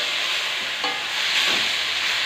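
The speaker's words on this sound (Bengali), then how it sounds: "এবার আমি এটাকে ভালো করে নাড়বো।" Steady frying hiss of fish and turmeric in a hot pan, with a couple of soft scrapes as the spatula stirs it, close up and continuous, no voice.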